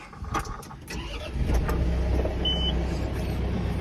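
A John Deere 4R snow tractor engine cranks and catches after a few clicks, then settles into a steady, loud idle rumble close by.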